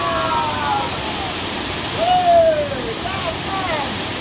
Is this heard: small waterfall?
yes